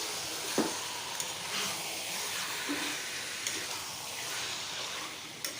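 Mutton frying in a kadai, a steady low sizzle with occasional scrapes and taps of a spoon stirring the meat, fairly quiet and close.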